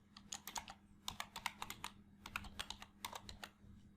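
Quick, crisp keystrokes on a computer keyboard typing a worksheet name in Excel, close and clear in short bursts with brief pauses, no talking.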